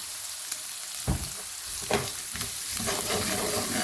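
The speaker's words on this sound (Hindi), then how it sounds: "और इसको भी हमने भूनना है, यानी बहुत ज़्यादा डार्क नहीं करना, बस लाइट ब्राउन ही करना है" Eggplant and potatoes fry in a pan with a continuous hiss, broken by a few louder stirring scrapes, close up and with no voices.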